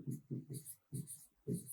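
A marker or chalk writes on a classroom board in several short scratchy strokes with brief pauses, alongside low murmuring vocal sounds.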